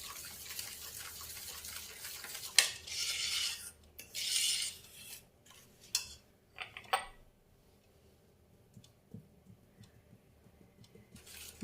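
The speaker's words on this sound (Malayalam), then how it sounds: "എല്ലാം കൂടെ ചേർത്ത് നമുക്കിത് മിക്സ് ചെയ്യാം." Butter cake batter being mixed in a bowl, giving intermittent scraping and rasping strokes of a utensil, with bursts of brisk stirring and quiet gaps between them.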